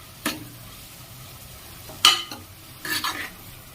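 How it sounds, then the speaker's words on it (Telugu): A spoon scrapes through capsicum paneer curry with turmeric in an oil-free pan, three distinct stirring strokes over a faint background sizzle, close and fairly loud. "సో పసుపు వేసుకున్నాక ఒకసారి కలిపేసుకోండి"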